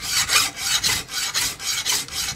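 A file rasps across a forged steel knife blade in a quick, even back-and-forth rhythm, close and loud, during final sharpening before heat treatment, with no talking.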